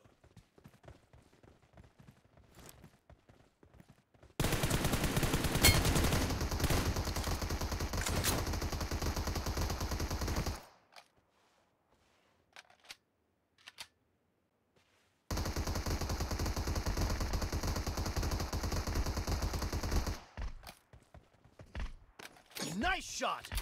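Gunfire in the mobile battle royale BGMI during a one-versus-three clutch: two long, dense automatic bursts, each lasting several seconds, separated by a near-silent gap, with faint voices in the quieter stretches.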